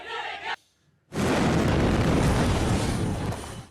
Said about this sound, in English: The blast happened as members of Yemen's new unity government arrived at the airport.